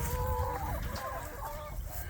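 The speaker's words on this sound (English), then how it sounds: "She has, I believe, 22 hens and a rooster in there." Hens and a rooster clucking inside an aluminum chicken tractor, a flock of about twenty-two birds; steady overlapping clucks and murmurs close by, with no talking.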